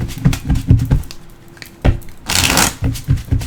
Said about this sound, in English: So let's just go ahead and shuffle, okay?